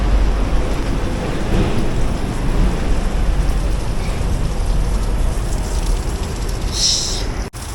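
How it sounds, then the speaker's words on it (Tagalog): Heavy rain pours steadily and close by in an outdoor storm, a dense unbroken hiss with a brief higher rattle near the end. "Inabot ng ulan."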